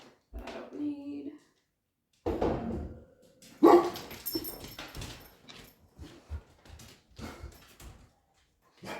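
A dog barks indoors in a home kitchen, several sharp separate barks spaced across the stretch, with a person speaking between them.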